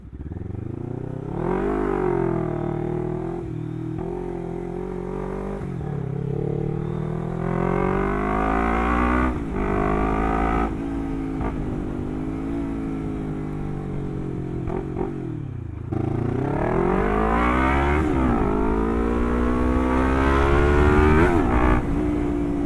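A Lexmoto LXR380 motorcycle engine revs hard and loud up close, rising and falling through repeated throttle blips over a steady rumbling idle, with no voices.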